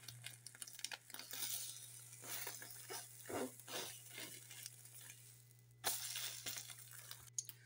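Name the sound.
egg frying in a little oil on a tawa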